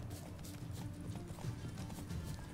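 Steady clip-clop of Roach's hooves in The Witcher 3: Wild Hunt, a close, rhythmic run of hoofbeats with a faint neigh and no talk over it.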